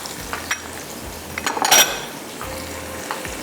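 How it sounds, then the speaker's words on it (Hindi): Cumin and black pepper sizzle in hot oil while a spoon stirs and clinks against the pan, soft steady frying with a brief louder scrape partway through. "गरम ही है ऑयल, तो इसके अंदर थोड़ा सा फ्राई हो जाएगा।"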